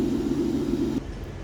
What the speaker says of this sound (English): There's the tram going away from me now.